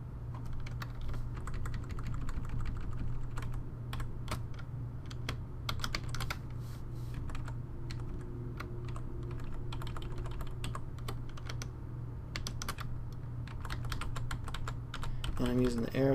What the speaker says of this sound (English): I'm using the arrow keys because I think that's easier right now.